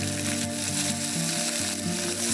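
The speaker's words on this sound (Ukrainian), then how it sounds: "Смажимо вирізку на середньому вогні протягом 3 хвилин." Steady sizzling of veal fillet frying in oil in a hot pan over medium heat, a continuous crackle with a low hum underneath and no voices.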